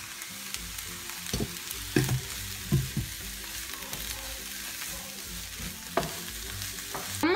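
Fresh spinach sizzles in a hot frying pan while being stirred, a steady crackling fry broken by several distinct scraping and tossing clatters from a utensil.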